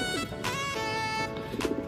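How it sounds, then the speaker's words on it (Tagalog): Pigeons coo softly in a loft, a few low repeated coos under steady background noise with some faint harmonic chatter. "Yan mga kalapatids."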